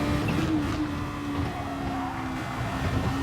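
Super Formula race car on the Saint Croix track, engine droning steadily as it pulls up a hill out of a corner, a loud sustained tone from close by with a slight dip in pitch midway.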